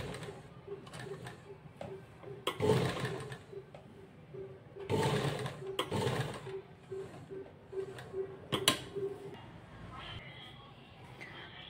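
A sewing machine stitches a blouse neckline, running in several bursts of steady mechanical whirring with pauses between, fairly close, while a person talks over parts of it.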